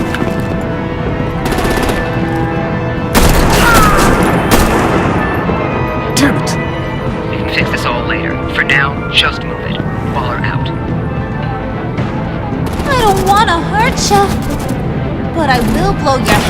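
Artillery gunfire erupts in Batman: The Enemy Within, with loud booming bursts and rapid shots, then sparser cracks and whizzing effects, while characters shout over the fighting.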